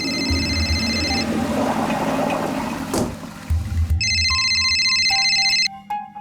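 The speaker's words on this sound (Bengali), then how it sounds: "তোর ফোন এসছে।" A phone ringing indoors, an electronic ringtone of repeated bright tones sounding in two bursts with a pause between, over a low background hum.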